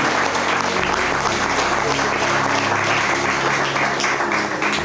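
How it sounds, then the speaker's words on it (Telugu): Loud, sustained applause from a church congregation at a Sunday service, dense clapping filling the whole stretch without a break. "అంతా సేవకుల కొరకు గట్టిగా ఒకసారి చప్పట్లు కొట్టి స్వాగతించుకుందాం."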